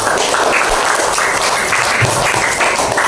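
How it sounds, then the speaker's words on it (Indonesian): Schoolchildren in a classroom clap for a classmate, a loud, busy patter of many small hands close by that carries on evenly throughout, with no talking over it. "tepuk tangan buat teman kalian"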